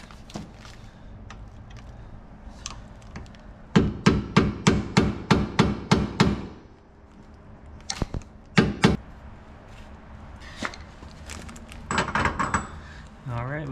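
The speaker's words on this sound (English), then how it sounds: "We're gonna go ahead and hammer, get a smaller one, hammer this out" Hammer blows striking to knock out a rear axle on a 2004–2008 Acura TL, a rapid run of about eight sharp metallic hits followed by a few scattered knocks and clanks, with shop noise between.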